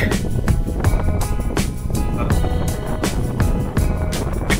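Strong wind gusting across a farm in Kolhapur, a loud, broad rushing roar buffeting the microphone in rapid pulses throughout, close and continuous with no break.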